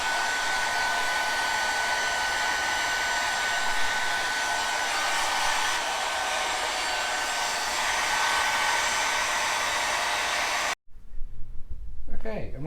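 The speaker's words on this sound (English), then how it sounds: "and it says just heat it up with a hairdryer." Hairdryer heating protective film on a BMW S1000RR M Sport motorcycle grip, a loud steady whooshing blower hum running continuously, then cutting off sharply as a voice begins speaking.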